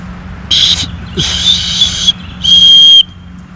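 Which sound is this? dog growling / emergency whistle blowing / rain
emergency whistle blowing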